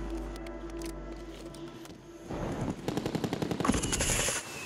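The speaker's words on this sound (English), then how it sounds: "How did those bullets not hit him" Automatic gunfire in the Warzone shooter game, first steady tones and clicks, then bursts of rapid rattling shots building to a loud, dense volley with no talk.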